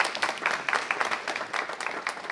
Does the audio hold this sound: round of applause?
yes